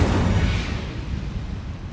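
An Incendio fire spell bursts out in the Hogwarts Legacy video game: a loud, dense, roaring blast that is strongest at the start, then settles into a lower rumbling crackle. There is no talking.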